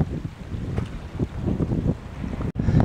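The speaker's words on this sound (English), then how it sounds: "a bit windy at this end of the loch" Steady low wind roaring and buffeting close to the microphone beside a Scottish loch at the Gaick, with gusty rumbles throughout and a brief drop near the end.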